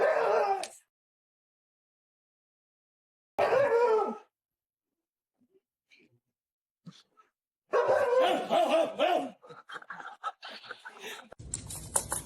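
Dog barking in short bursts separated by long silences, close and loud, with a voice talking near the end.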